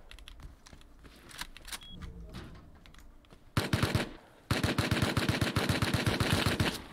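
Video game gunfire: after quiet keyboard clicking and scattered shots, two loud, close bursts of rapid automatic fire rattle out in quick, even rhythm.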